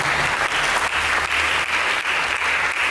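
Church congregation applauding, a loud, sustained and even roar of many hands clapping for the whole stretch, with a low hum underneath.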